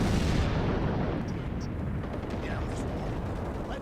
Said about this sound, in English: And then we cut to one of the anti-aircraft guns.